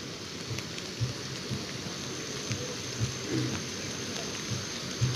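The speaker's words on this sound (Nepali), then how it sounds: "पानी पर्यो जता" Steady rain falls on a rainy day outdoors, a soft continuous patter with faint low thuds recurring at irregular intervals and no voices.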